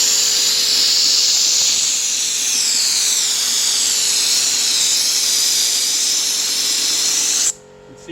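A spray gun blows a texture coat onto a fake rock surface as a steady, loud compressed-air hiss that runs unbroken for about seven seconds, then cuts off abruptly.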